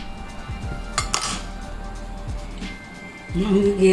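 A spoon stirs nungu kheer in a glass, giving light clinks and taps against the rim over a steady background hum, with a voice rising near the end.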